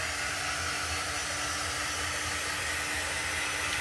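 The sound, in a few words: hair dryer run over a chalk craft project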